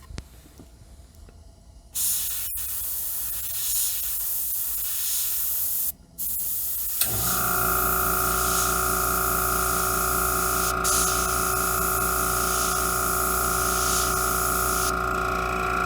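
An airbrush sprays paint in steady hissing bursts, one short pause after the first burst, then a long continuous spray close by, with a background hum beneath.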